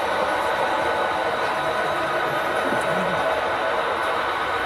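Several model trains run continuously around a small figure-eight layout, giving a steady, even rolling whir with faint rumble and no distinct breaks.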